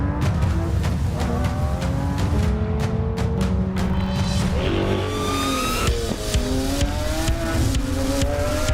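A Lamborghini SVJ supercar engine roars and accelerates, pitch rising through gear changes amid other loud supercar engines and sharp crackles nearby.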